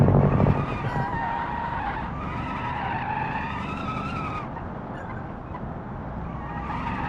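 In the BeamNG driving game, a car's tires skid hard under braking into a turn, a sustained wavering squeal over engine noise that fades slightly near the end.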